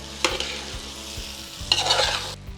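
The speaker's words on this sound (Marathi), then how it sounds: "आता ह्या छान भाज्या आपण परतून घेणार आहे का मसाल्यामध्ये" Ivy gourd and peas are sautéed in masala in a pan for masala rice, with a steady sizzle and several sharp stirring scrapes, the louder strokes coming near the start and again toward the end.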